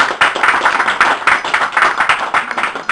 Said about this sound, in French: je vous prie vraiment d'applaudir beaucoup M.